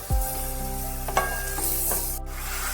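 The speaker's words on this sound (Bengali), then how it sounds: "এই পেঁয়াজটাও ভালোভাবে একটু নাড়িয়ে চাড়িয়ে নিতে হবে।" Onion paste frying in a pan for a potato dum is stirred, giving a soft sizzle with a few scraping strokes of the spatula against the pan. No voices are heard.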